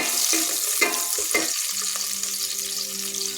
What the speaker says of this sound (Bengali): পেঁয়াজ এটা ভালোভাবে ভেজে নিচ্ছি